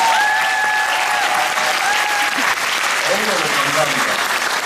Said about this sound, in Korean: 여러분들 한 번 더 큰 박수 좀 부탁드립니다